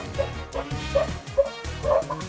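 Dog Pokémon in a Pokémon Scarlet/Violet VGC ranked battle give short repeated barks or yips, four quick calls spaced about half a second apart over busy game music and effects.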